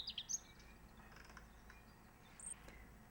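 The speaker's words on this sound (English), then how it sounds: "The birds are singing." Songbirds in spring, faint, scattered high chirps and short tweets from a distance: a quick cluster at the start, a single clear note later, over a soft outdoor hush.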